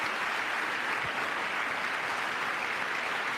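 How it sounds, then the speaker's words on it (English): Applause at the State of the Union fills the clip as a dense, steady wash of clapping from a large crowd, unbroken and fairly loud throughout. "obedience that Republicans are showing to him by applauding everything is just so embarrassing"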